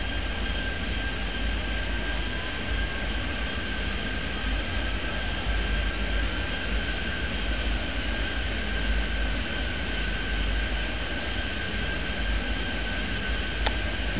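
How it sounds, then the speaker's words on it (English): Steady, continuous airport ambience from the Airport Madness 3D game, with a constant engine drone and whine of aircraft moving about, holding at an even, moderately loud level throughout without talk. "Bunch of planes moving in all different directions."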